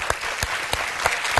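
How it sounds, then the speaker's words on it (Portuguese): A TV studio audience applauding, dense continuous clapping with a few sharper claps standing out, fairly close and lively. "Palmas para Marco. Muito bem"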